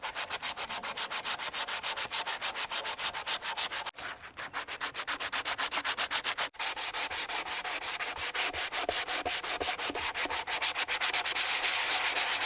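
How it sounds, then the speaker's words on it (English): Hand sanding of a wooden chair being refinished, sandpaper wrapped around a sanding block rasping back and forth in steady, rapid strokes, close and continuous, growing slightly louder and brighter after a brief pause partway through; no voices. "I'm just gonna go in with some sandpaper wrapped around my sanding block"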